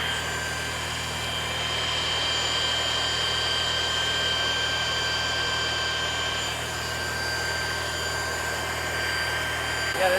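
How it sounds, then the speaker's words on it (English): Sewer jetter running while cleaning out a pipe, a steady loud engine-like drone with a constant high whine, continuous throughout with no talking. "We're gonna jet it one more time and then re-camera it to make sure that the pipe is completely cleaned."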